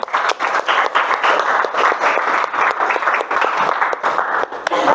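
Classroom applause for a teacher's lesson, a steady dense patter of many hands clapping together at close range, loud and continuous with no talk over it.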